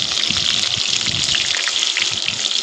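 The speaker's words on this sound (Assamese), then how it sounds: "মই এতিয়া পিঁয়াজখিনি ভাজি দিছোঁ।" Onions frying in a little oil in a wok, part of a pork dish being cooked; a steady, close hiss of sizzling with soft crackles and faint stirring thumps, and no voices.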